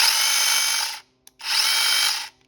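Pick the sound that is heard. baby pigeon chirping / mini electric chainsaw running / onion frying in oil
mini electric chainsaw running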